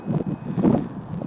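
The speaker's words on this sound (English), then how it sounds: "This is where it gets kind of windy." Wind gusting along Main Street in historic Franklin, Deadwood, a steady low buffeting rumble close on the microphone, with no voices over it.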